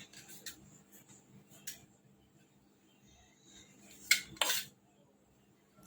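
A knife cutting leftover roti into pieces clicks against a plate or board. Faint scattered taps come first, then a quick, louder cluster of close clinks near the end, with no one speaking.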